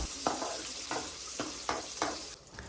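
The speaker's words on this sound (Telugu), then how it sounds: "ఇప్పుడు కడాయిలో నూనె వేసుకొని వేడయ్యాక అందులో రెడీగా కోసుకొని ఉంచుకున్న ఉల్లిపాయలు, పచ్చిమిర్చి, ఇంకా కొంచెం కరివేపాకు వేసుకొని బాగా వేయించుకోవాలి." Onions, green chillies and curry leaves frying in hot oil in a kadai, with a continuous sizzle broken by regular stirring scrapes about every half second, heard close up with no talking.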